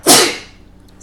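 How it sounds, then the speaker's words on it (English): A single loud, sharp sneeze bursts out close to the mic, then fades into quiet. "Sorry, I had to sneeze."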